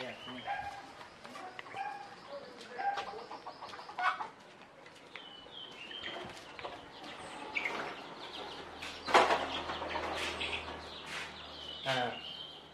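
Canaries in breeding cages give scattered high chirps and short calls over a low background hum, fairly close and moderately loud throughout.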